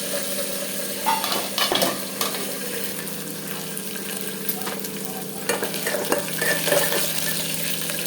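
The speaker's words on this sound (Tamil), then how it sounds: "பூண்டு, கருவேப்பிலை, 3 காஞ்ச மிளகா போட்டுக்குங்க." Garlic, curry leaves and three dried red chillies frying in hot oil for a spicy kara kuzhambu, a steady close sizzle running throughout with scattered light spoon stirs and clinks over it.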